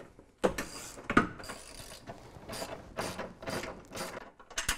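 Low-profile ratchet wrench turning van seat bolts, a series of close, crisp ratcheting bursts in an uneven back-and-forth rhythm, with a couple of sharp metallic knocks near the start.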